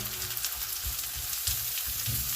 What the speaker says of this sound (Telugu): వేగిన తర్వాత కట్ చేసి పెట్టుకున్న ఉల్లిపాయ ముక్కలు వేసేస్తున్నాను.